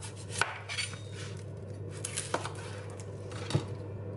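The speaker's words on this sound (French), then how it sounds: "En premier on va couper un oignon et on va le mettre dans une poêle à cuire" A knife cuts an onion on a warped cutting board, with a few sharp, spaced knocks against the board over a steady low hum, fairly quiet and close.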